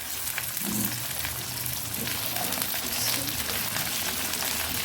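Potato pieces frying in hot oil in a pan for aloo matar biryani, a steady close crackling sizzle running throughout without any talk.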